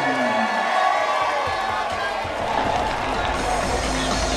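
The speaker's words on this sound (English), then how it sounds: "a big round of applause for Nathan" A crowd at a kickboxing fight event cheers and applauds for the winning fighter, a loud, sustained roar of voices and clapping filling the venue throughout.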